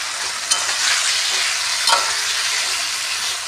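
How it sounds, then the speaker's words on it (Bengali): Fried potatoes and mango are stirred with spices in a pan, giving a continuous frying sizzle with a couple of sharp scrape or tap accents from the utensil, close and steady with no speech. "ভালো করে নেড়ে চেড়ে নিই, যেহেতু আলু ভাজা আছে বেশি ভাজার দরকার নেই, মশলার সঙ্গে মিশিয়ে নিই।"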